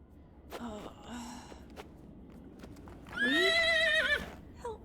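A horse in a video game gives a brief whinny, followed by a louder, longer neigh near the end. Hoof clops and faint breathy sounds come in between, all close.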